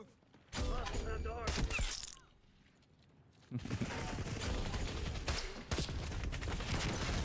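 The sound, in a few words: gunfire in Call of Duty Black Ops 6 video game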